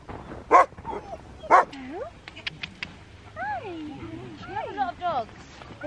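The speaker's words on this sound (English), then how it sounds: "You have a lot of dogs." Several dogs bark sharply twice close by, then whimper and whine in rising, wavering yelps, with people talking excitedly over them.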